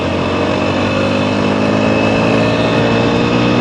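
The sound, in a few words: TVS Apache RTR 160 4V motorcycle engine revving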